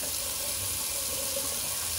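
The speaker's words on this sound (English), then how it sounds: "excessive run of the water" Tap water runs steadily and close while a flat top shaving brush is rinsed under it, giving a continuous even hiss and splatter with no talking.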